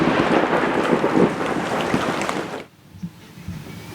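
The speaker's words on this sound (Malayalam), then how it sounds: "കാലം തെറ്റിയുള്ള മഴയാണല്ലോ" Heavy rain pours in a dense, loud roar with rumbling thunder during a skit, then cuts off abruptly to near silence with a few faint thuds.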